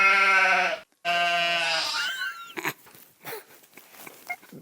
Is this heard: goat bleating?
yes